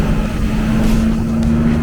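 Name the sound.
wind rushing through open windows of old bus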